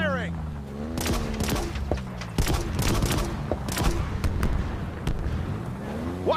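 Rapid bursts of weapon fire in the Halo Infinite campaign, loud sharp cracks in irregular volleys over a rumbling battle backdrop, with a voice shouting near the start.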